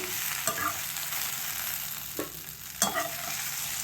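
Okra pieces frying in a pan for a masala gravy curry, a continuous close sizzle punctuated by three distinct scraping stirs of a spatula, moderately loud, with no one speaking.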